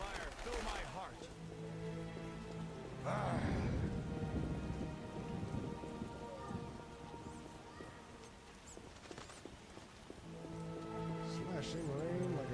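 Steady rain pours throughout, with a low rolling rumble of thunder swelling partway through and again near the end, in the video game The Witcher.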